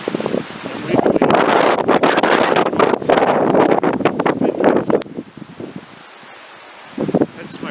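Gusty wind blows spindrift snow against a small winter shelter, loud rushing and buffeting close to the microphone for several seconds before easing to a quieter lull and then picking up again.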